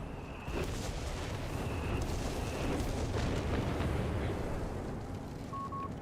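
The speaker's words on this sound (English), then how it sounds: "Recon artillery is coming in again." Recon artillery shells burst in Company of Heroes 3, a sustained rumble of deep explosions and crackling debris after a sharp onset, with faint interface chimes over the din.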